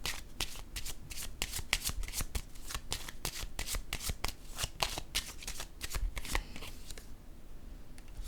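Playing cards are riffled and shuffled in a steady run of rapid crisp flutters that lasts several seconds, close and alone, then stops abruptly.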